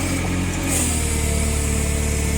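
A Japanese 1.5-ton forklift's engine runs at a steady, even idle, close and fairly loud, with a constant low hum and no revving.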